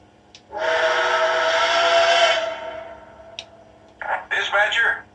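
A Nickel Plate Road 2-8-4 model steam locomotive sounds a sustained whistle blast of about two seconds, fairly loud and close, followed shortly by a short burst of chuffing or radio-style chatter.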